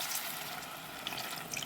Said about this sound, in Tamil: இப்போ நான் தண்ணி விடுறேன்